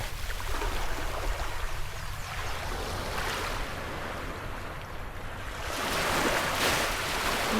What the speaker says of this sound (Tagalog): ingay ng alon